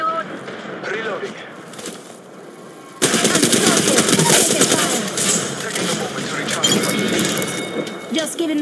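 Rapid automatic gunfire from a first-person shooter video game erupts loud and dense after a quieter opening, sustained bursts continuing to the end with a voice talking intermittently beneath the shots.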